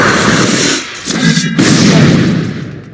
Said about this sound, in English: basically lunges into them and does like a big explosion